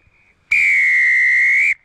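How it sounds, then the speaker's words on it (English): A referee's whistle at an A-grade sports match gives one loud, sustained, piercing blast of just over a second, close and clear against a quiet background. "You gotta blow the whistle"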